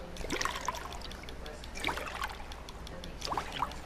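Water trickles and pours while bottles are filled at a source in Fallout 4 survival mode: soft, uneven splashing bursts in a game scene, with a faint voice-like murmur in the background.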